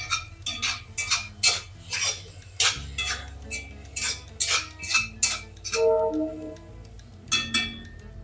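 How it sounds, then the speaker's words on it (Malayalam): A mixer grinder jar is being washed, giving a run of close clinks, knocks and clatters of metal and glass at an uneven rhythm, with a brief splash of water near the end and no talk. "ഇനി മിക്സിയുടെ ജാറ് കഴുകി ശകലം വെള്ളം ഒഴിച്ചു കൊടുക്കേ."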